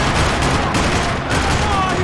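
Heavy gunfire in the video game Max Payne 3, set in a parking lot, a dense, continuous rattle of shots that is loud and close, with no pauses in the burst.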